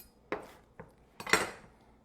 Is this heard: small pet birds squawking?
no